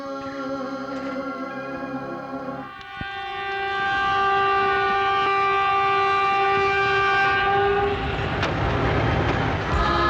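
A train arriving at a station sounds long, loud sustained horn tones, then a deep rolling rumble of wheels that swells and stays close, with no voices.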